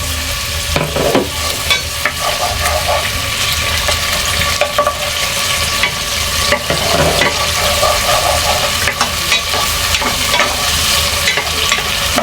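Chicken sautés in a pan with fish sauce, sizzling steadily and close, with scraping stir strokes breaking in at irregular moments over the frying hiss.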